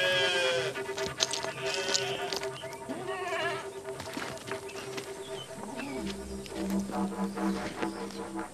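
A flock of sheep bleats in overlapping, wavering cries, some near and some farther off, over a steady outdoor bed with occasional shuffling and clatter.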